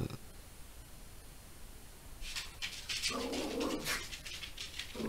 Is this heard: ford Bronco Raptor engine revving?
no